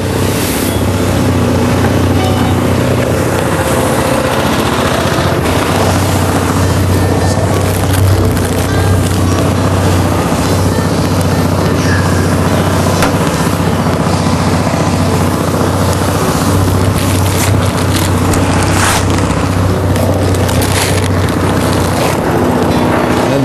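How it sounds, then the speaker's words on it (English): A 9-cubic-foot horizontal paddle mortar mixer mixing plaster runs steadily with a constant loud mechanical drone and grinding churn, unbroken throughout with no voices. "Horizontal paddle mixer"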